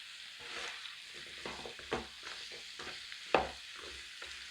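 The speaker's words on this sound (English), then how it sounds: "And I'm also going to give that a stir around." Vegetable curry is stirred in a pan: quiet, irregular spoon scrapes and thumps over a faint simmering sizzle, close by, without speech.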